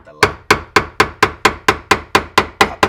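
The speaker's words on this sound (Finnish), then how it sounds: "sitä pitää vähän avittaa vasaralla" A hammer taps a chisel to turn the fuel pump locking ring on a BMW E36, about eleven sharp, evenly spaced metallic knocks in quick succession, close and loud.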